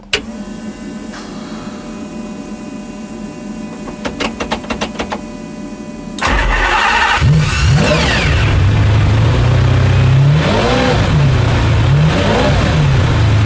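A low idle hum gives way to rapid clicks, then a race-spec McLaren F1 GTR engine fires up loudly and revs repeatedly, rising and falling in pitch, raw and unmuffled.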